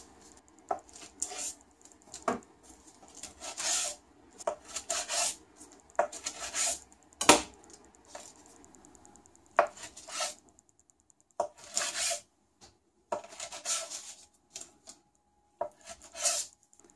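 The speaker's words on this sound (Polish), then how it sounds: "Kroimy na paski około 2 cm." Knife cutting puff pastry rolled with salami and cheese into strips about 2 cm wide, a series of close, scratchy strokes and board taps repeating in uneven bursts, no voices.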